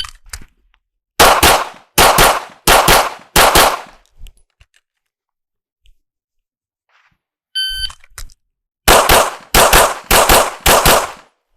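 Loud, close handgun shots are fired in two quick strings during a recoil demonstration. Four shots come first, then a pause broken by a short electronic beep, then about five more rapid shots.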